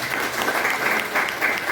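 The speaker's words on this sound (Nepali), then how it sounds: "डाक्टर लिम सिलोजिनको लागि एक जोरदार ताली" Steady applause from an audience for Dr. Lim Siew Jin, a dense, even clapping that holds at moderate loudness throughout with no pause.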